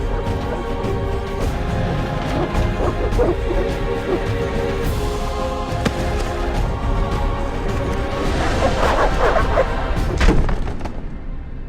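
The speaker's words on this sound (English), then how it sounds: "The dogs will tear her apart." Dogs bark and yelp in The Witcher video game, a steady, loud barrage of barking with thumps and scuffling over a dense game soundscape, with no clear speech.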